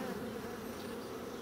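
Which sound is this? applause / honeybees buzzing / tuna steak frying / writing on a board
honeybees buzzing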